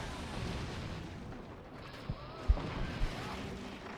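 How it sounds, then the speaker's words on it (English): A cannon fires in the physics-based strategy game Forts, heard as a few dull, low booms and thuds that rise briefly over a steady rumbling game background; no one talks. "Let's fire a cannon up there, since it just explodes technology."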